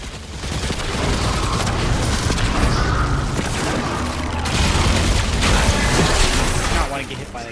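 Cannon fire and explosive booms from the video game Destiny 2: Lightfall, a loud, dense barrage of blasts and rattling gunfire that keeps going for about seven seconds before easing off.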